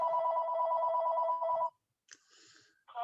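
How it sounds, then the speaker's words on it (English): A telephone rings in a room with a steady electronic trill that lasts over a second. It stops, and a brief fainter tone and the start of another ring follow. No one talks. "I'm sorry about that phone right there."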